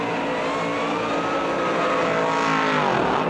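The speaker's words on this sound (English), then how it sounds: "Robbins trying to bring that Cabelco Supercharged big block Chevrolet to the 200-mile-per-hour mark." Supercharged big block Chevrolet drag race car engine in Super Pro Street at the World Finals in Orlando, roaring loud and close as it climbs in pitch at full throttle down the strip, with no talk.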